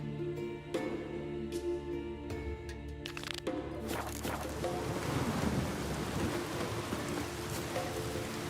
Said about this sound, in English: Raining fucking buckets.